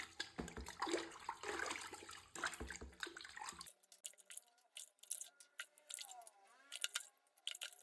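Clay diyas being rinsed in clean water after Diwali produce quiet splashing and sloshing, with a denser wash of water early on and then softer, scattered splashes and drips.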